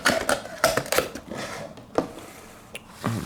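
Packaging for a Great NG Models United Airlines Boeing 787-10 model being opened: close crinkling, tapping and scraping of cardboard and plastic in short irregular bursts.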